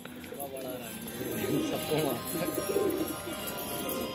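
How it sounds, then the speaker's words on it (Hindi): Pigeons in a rooftop pigeon-keeping setting coo in soft, repeated rounds close by, under a steady background hiss, with a voice speaking over them. "तो गाइज ऐसे लड़ते हैं, देखो कबूतर मेरे हाथ में"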